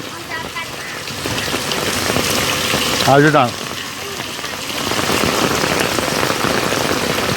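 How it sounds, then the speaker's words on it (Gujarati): Steady rain patters on surfaces in a dense, continuous hiss, falling while the sun shines, with a brief voice speaking partway through. "આમ તડકો છે ને વરસાદ ચાલુ છે."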